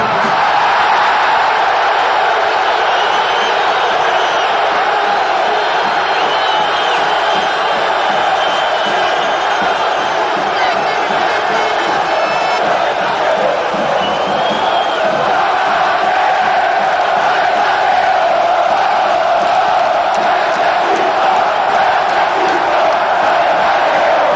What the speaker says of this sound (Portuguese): Apaixonados de todas as idades, cantam e vibram com o time em campo.